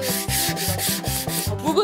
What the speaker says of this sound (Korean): 사포로 거친 부분을 모서리가 둥글둥글 굴려줍니다.